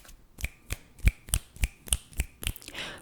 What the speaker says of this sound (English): Firm finger flutters.